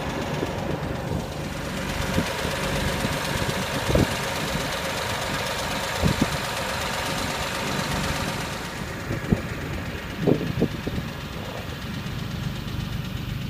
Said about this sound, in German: ein Traktor mit Mähwerk